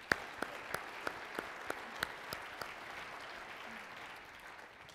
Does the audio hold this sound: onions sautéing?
no